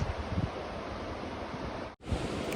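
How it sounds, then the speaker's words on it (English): Ocean surf on the Oregon coast makes a steady broad wash of noise, with wind buffeting the microphone and a brief dropout near the middle. "Got to hear the ocean."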